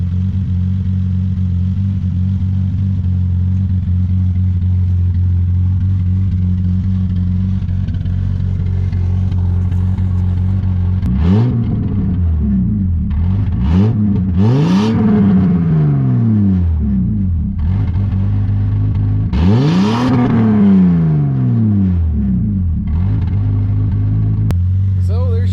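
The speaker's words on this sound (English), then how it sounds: "I gotta give you a sound clip of this exhaust too." A lowered BMW E30 idles with a deep exhaust drone, then gets several sharp revs that climb and fall, loud and close throughout.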